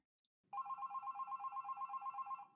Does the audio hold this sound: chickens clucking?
no